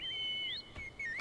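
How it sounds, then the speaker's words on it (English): A chocobo whistle in the video game Final Fantasy XIV: a clear, high two-part whistled call with rising slides, loud and alone. "Use the chocobo whistle to summon your steed again."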